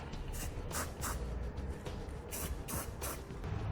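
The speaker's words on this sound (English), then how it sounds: "I like to use some clear spray paint to put on that bare metal" A series of short bursts of clear aerosol spray paint onto bare metal of a trailer hitch on a 2018 Ford Taurus, hissing close by in quick repeated pulses over a steady background noise.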